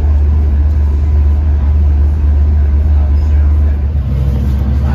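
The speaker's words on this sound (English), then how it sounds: "As we go through the tunnel, you can hear the diesel engines clearly on." Diesel engines of an LIRR Cannonball train heard from inside a car running through a tunnel, a loud, steady low rumble and drone that holds throughout.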